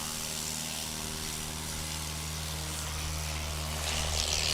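A STOL aircraft takes off at the Arklahoma STOL competition at Patriot Airpark in Pocola, Oklahoma, its propeller engine droning loud and steady from start to finish and swelling slightly near the end.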